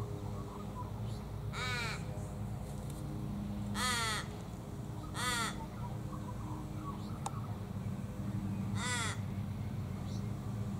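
Australian ravens in a flowering silky oak call out four loud, wailing caws at uneven intervals against a steady outdoor background hum.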